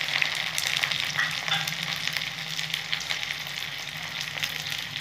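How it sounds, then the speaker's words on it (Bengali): Onions and tomato fry in a pan with a steady, close, full sizzle that crackles evenly throughout, with no voices. "পেঁয়াজগুলো ভাজা হয়ে গেছে, টমেটোটা দিয়ে দিলাম"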